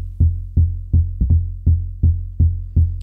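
Elektron Digitone bass track hitting in a polyrhythmic pattern, eight deep, punchy bass notes with quick decays, one pair close together, sounding clean and alone.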